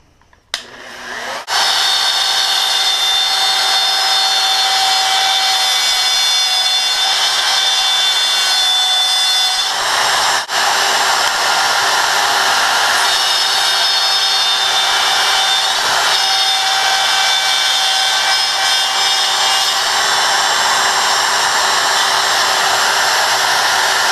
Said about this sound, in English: Now we're going to start the process of cutting out the bottom shelf.